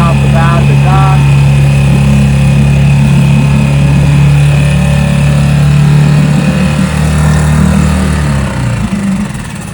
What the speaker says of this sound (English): I can go ahead and kill the motor